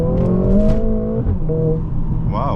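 A Mercedes-AMG GLA45 four-cylinder engine revs hard under full acceleration, its rising harmonic tone loud and close from inside the cabin, with a brief lull and shifting pitch before climbing again.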